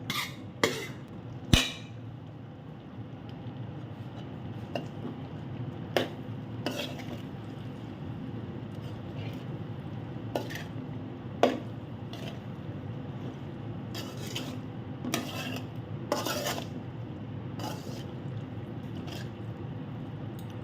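Hog plums, already sautéed, stirred into a spiced pickle mixture in a pan: a steady low scraping churn with scattered sharp clicks of the spoon against metal, fairly quiet and with no talking.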